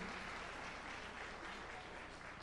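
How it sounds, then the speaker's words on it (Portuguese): A church congregation applauds during a Sunday morning worship service, steady dense clapping throughout, fairly faint and distant, with no voices over it. "vamos dar uma salva de palmas ao Senhor"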